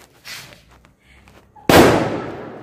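A bullet bomb firecracker set off outdoors during the Igas festival bursts with one sharp, loud bang after quieter rustling and faint sounds, its noisy crackle and echo then fading over about a second.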